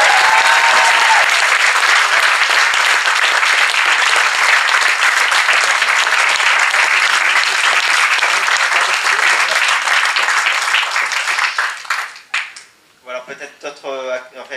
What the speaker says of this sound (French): elle mérite un petit applaudissement encore supplémentaire